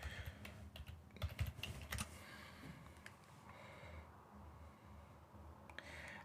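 Typing on a computer keyboard while installing Windows Server 2019, with bursts of quick close keystrokes and short pauses between them over a low steady hum.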